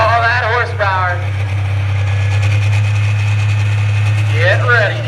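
A semi truck in a tractor pull holds a deep, steady engine drone, loud and close, its pitch barely changing, while an announcer talks over it at the start and end.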